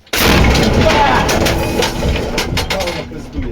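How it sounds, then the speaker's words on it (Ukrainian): A sudden heavy boom from an artillery cannon erupts loudly and close, followed by a long rumbling tail with scattered cracks and clatter. "Що там, постріл? Готовий. Гармата. Постріл!"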